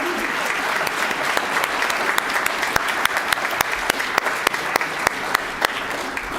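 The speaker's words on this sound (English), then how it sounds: "Let's give a quick round of applause to everyone on that screen." An audience at an Earth Day climate action event applauds steadily for several seconds, a dense, even patter of many hands with a few sharper claps standing out, filling the room at moderate loudness.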